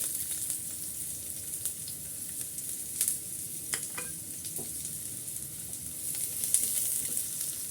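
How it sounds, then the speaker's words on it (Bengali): Chopped garlic and onion fry in oil, giving a soft, continuous crackling sizzle with a few sharper spatters and stirring scrapes, fairly quiet and close, with no talking. "এখন এই তেলের ভিতর আমি কিছুটা রসুন কুচি দিয়ে দিচ্ছি আর দিয়ে দিচ্ছি কিছুটা পেঁয়াজ কুচি"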